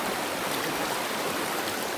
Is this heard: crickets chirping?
no